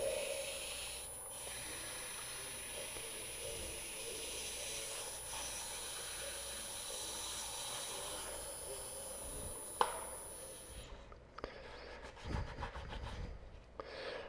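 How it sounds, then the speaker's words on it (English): Sandpaper rubs wood in a circular motion for a snowman carving, a faint continuous scratchy rasp with brief bumps and a short pause near the end. "when you sand, of course you're sanding in a rotating method"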